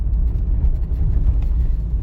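Low, steady engine rumble of a car shifting into third gear on an uneven road during a driving test, heard from inside, continuous and fairly loud with no speech.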